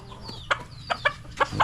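A chicken clucks nearby in a series of short, sharp calls, about five quick clucks in under two seconds.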